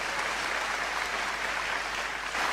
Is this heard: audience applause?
yes